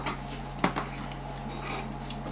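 Risotto being plated onto a dish: a single sharp clink of a utensil against the plate followed by a softer knock, close by over a steady kitchen hum.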